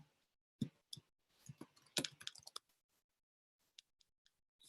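Someone types figures on a keyboard, producing faint, irregular clicks and taps in an uneven burst that thins out to scattered keystrokes, close and quiet.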